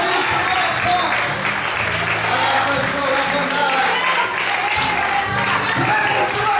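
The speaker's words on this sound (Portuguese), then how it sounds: "Você pode aplaudir o Senhor mais forte." A church congregation applauds during a night worship service, sustained clapping from a crowd with voices and music mixed in, filling the whole stretch at a loud level.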